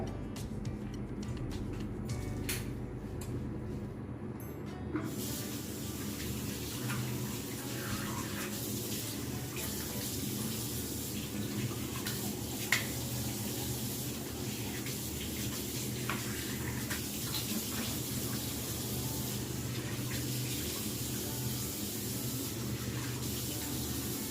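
Water runs steadily from a tap while a face is washed after a scrubbing face wash, a continuous hiss broken by occasional splashes, with a quieter, clicking stretch at the start.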